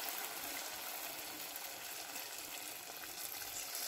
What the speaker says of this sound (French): les beignets sont en train de cuire